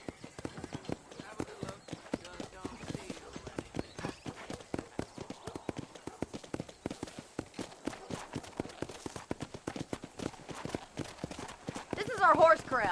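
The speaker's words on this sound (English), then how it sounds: "This is our horse corral." A horse's hooves clip-clop in a steady, even rhythm in the Red Dead Redemption video game, faint and continuous throughout, with voices talking over the hoofbeats.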